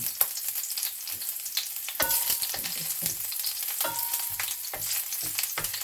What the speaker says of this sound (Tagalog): So, mainit na ang mantika. Ilagay natin ang garlic.